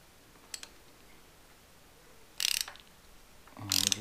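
A seat cutter cuts into a stripped spark plug hole in an engine cylinder head during a Time-Sert thread repair, giving a few short metallic clicks and two louder bursts of ratcheting, grinding cuts near the end.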